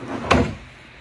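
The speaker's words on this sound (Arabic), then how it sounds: "السكك مثل ما عودناكم هيدروليك كلها." A single soft thud as a drawer on hydraulic slides glides shut in Iraqi-made bedroom furniture of Egyptian beech with oak inlay, with a short rumble after it and then quiet room tone.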